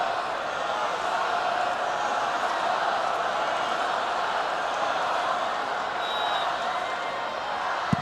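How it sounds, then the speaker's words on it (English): Home supporters at an Arsenal versus Chelsea women's league football match raise a broad, steady stadium roar that rises from the stands, a dense wash of distant cheering with no break. "And the home crowd find their voices."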